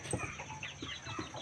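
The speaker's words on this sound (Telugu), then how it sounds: "ఇదిగో కోళ్ళు, నాటి కోళ్ళు అండి" Native country chickens on a small farm clucking close by, a few short soft clucks in quick succession with light background noise and no talk.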